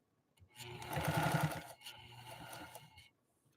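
A 1955 Pfaff 230 sewing machine stitches a straight seam through vinyl, a brisk mechanical whirring run of about two and a half seconds that rises and eases off, quiet at the start and end.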